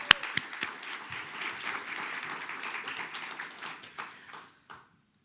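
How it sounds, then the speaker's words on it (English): Audience applause at a keynote on race, a dense burst of clapping with a few sharp close claps that swells, holds steady, then thins out and stops near the end. "let's get another round of applause for Sydney Rice, Maddie Reyes, and Sky Fortes"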